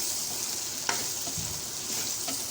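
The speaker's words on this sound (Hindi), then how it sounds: "इनको 3 से 4 मिनट तक हम फ्राई करेंगे।" Vegetables frying in a pan for a Chicken Manchurian, giving a steady, close sizzle with light stirring scrapes and a couple of brief clinks, with no talking.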